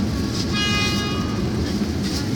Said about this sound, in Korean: 빵빵거리지만